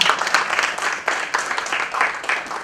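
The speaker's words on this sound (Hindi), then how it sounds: "क्या बात है, जोरदार तालियां हो जाए।" Enthusiastic audience applause at a poetry and literature session in Jaipur, many hands clapping at once in a full, rippling burst that swells and dips slightly while holding steady, close and loud.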